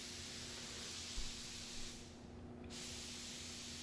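Spray gun driven by a small air compressor gives a steady broadband hiss of atomised spray, continuous and fairly close, with a brief drop in the top end partway through.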